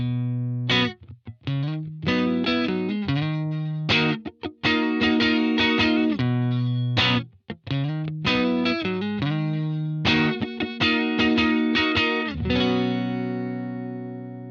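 An electric guitar plays through a UAFX Dream 65 amp pedal, Deluxe Reverb style, with controls at noon, the reverb off and the first cabinet selected. Crunchy, mildly distorted chords and riffs ring out loud and close, with short gaps between phrases and no speech.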